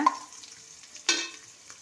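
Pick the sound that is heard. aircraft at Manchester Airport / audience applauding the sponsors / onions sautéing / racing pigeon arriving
onions sautéing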